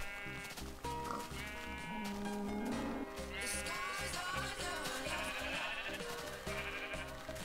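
Minecraft sheep bleat repeatedly in a survival game farm, several wavering bleats in quick succession over soft background game music and sounds.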